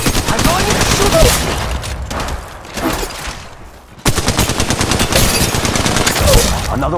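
Rapid automatic gunfire from the mobile game Apex Legends Mobile, dense loud bursts of shots that briefly dip and then resume at full intensity, with a voice occasionally talking underneath.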